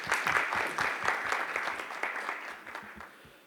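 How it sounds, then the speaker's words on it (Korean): Applause from a small crowd at an MMA media day, a few nearby sharp individual claps over a steady wash of clapping that gradually fades. "박수 부탁드립니다."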